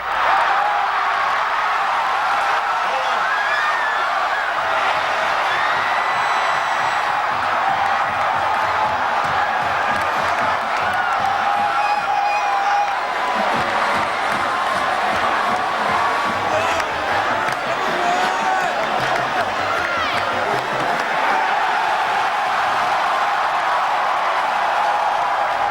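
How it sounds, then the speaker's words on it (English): A packed stadium crowd roars continuously at the close of the 2003 Florida State versus Florida football game, a dense, loud wall of cheering and whooping that holds steady throughout without a break. "With 5 seconds remaining, the crowd can no longer be held back."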